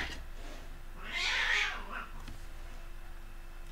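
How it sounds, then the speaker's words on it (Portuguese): Cats meow in a game of Fortnite, one drawn-out whining meow rising in the middle of a quiet stretch, fairly faint and alone. "É os gatos."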